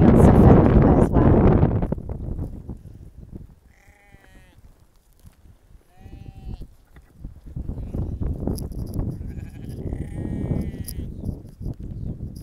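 Shetland sheep on Fair Isle bleat several times in the middle of the recording, distinct wavering calls set against outdoor rumble and wind, while a person speaks over the rest.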